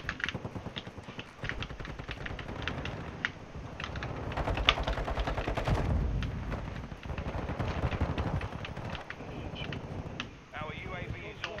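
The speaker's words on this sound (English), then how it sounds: "I shoot." Gunfire from a first-person shooter game, a rapid burst of shots with sharp transients layered over dense keyboard-like clatter, with a player talking throughout.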